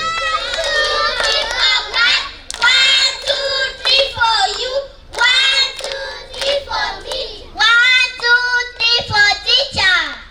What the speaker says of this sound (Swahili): Wacha kila mtu achipigie makofi kwa kazi nzuri.